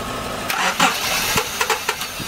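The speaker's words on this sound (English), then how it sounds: "See, it wants to start." A Honda Domani's D15B engine, running low on fuel pressure, cranks and sputters, trying to start: uneven bursts and catches over a steady starter whir, close and moderately loud, with no voices.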